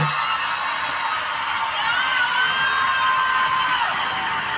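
An AGT audition audience cheers and gives a standing ovation, a loud, sustained roar of crowd noise with whoops and shouts that holds steady throughout, voices mixed into the din.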